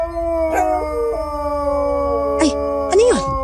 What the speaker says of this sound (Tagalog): Bakit may umaalulong ng mga aso?